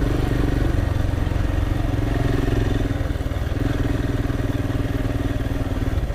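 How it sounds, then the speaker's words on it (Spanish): Motorcycle exhaust revved hard on an offroad ride near Tossa de Mar, a loud, continuous throaty engine roar with steady pulsing, close and alone without talk. "¡Oh, cómo suena ese escape cuando das gas!"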